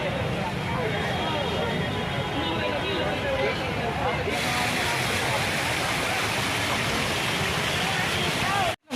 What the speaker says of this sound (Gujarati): મસ્ત અવાજ આવે પાણીનો